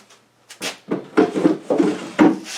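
A wooden drawer is pushed into a bench grinder stand, sliding and knocking in a series of scraping thuds and bumps, close and fairly loud, with short pauses between each push.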